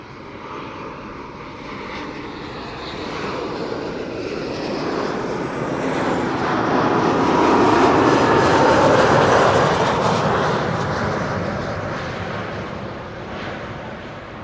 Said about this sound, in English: This is KLM flight 1076 arriving from Bristol and Embraer 190